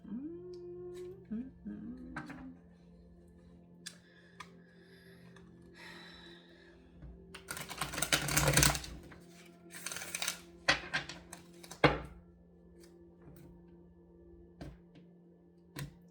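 A burst of rapid riffling as a deck of cards is shuffled, followed by a few quieter clicks and taps, amid a low background hum.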